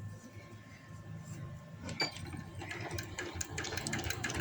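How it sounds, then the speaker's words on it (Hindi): A sewing machine runs in short, gentle bursts while stitching palazzo pant fabric, a light mechanical whir and clatter that picks up in the second half, with a faint voice talking at times underneath. "इसे स्टिच करेंगे प्यार प्यार से"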